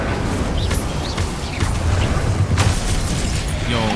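A Confringo explosion spell bursts in Hogwarts Legacy as a booming blast over a dense, continuous rumble of game effects and background noise.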